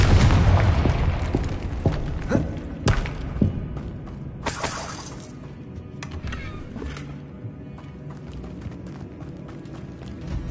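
Blasting spells go off in a Harry Potter video game, a series of sharp bursts and booms in the first few seconds followed by crackling debris and lighter impacts that fade into quieter game ambience.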